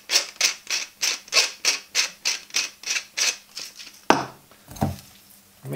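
Salt and pepper are mixed into shredded cabbage for traditional coleslaw, making a close, even run of about a dozen rhythmic scraping rubs, followed by a couple of heavier irregular thumps.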